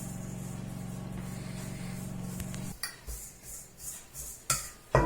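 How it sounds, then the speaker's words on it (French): Cake batter with sugar, rum, and citrus, dried and candied fruit is stirred in a bowl; a steady low hum gives way to several irregular close clinks and scrapes of the utensil against the bowl. "Je mélange."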